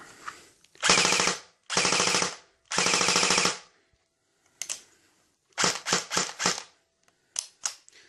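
Airsoft gun fitted with a high torque motor firing full auto, three long loud sustained bursts followed by several shorter rapid bursts and single shots, alone without talk.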